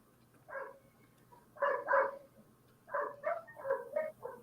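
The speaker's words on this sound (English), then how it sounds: "We hear the puppies in the background at Mikhail's house" Puppies barking at a house, several short bursts of yips and barks in irregular clusters, moderately near over a faint steady hum.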